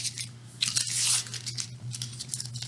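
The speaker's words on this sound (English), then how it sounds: "Crumple it up" Sheet of printing paper crumpled by hand at close range, a busy stretch of crinkling and crunching with a louder burst in the middle, no talk over it.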